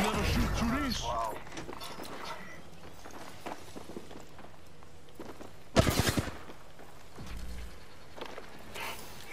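Gunfire in the shooter game Apex Legends, a short rapid burst of sharp loud shots midway through, with footsteps and scattered game noises around it and people talking.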